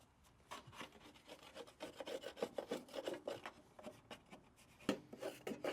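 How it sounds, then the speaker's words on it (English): A wooden garden stake scrapes caked grass from the underside of a Honda lawn mower deck in a series of close, rasping strokes with an uneven rhythm, and one sharp knock near the end. "wooden garden stake here just to get the worst of it off, because you don't risk scratching all the underneath your mower"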